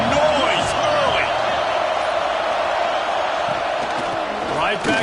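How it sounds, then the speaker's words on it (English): A dense, roaring crowd fills a college football stadium at the Apple Cup, a loud continuous wash of voices with whistles and shouts rising through it. "This crowd bringing the energy and noise early."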